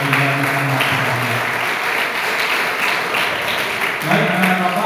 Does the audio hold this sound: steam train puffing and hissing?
no